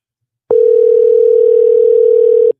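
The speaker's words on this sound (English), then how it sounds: "Still ringing." A steady, continuous electronic phone tone sounds loud and close for about two seconds, starting and stopping abruptly, with no voices.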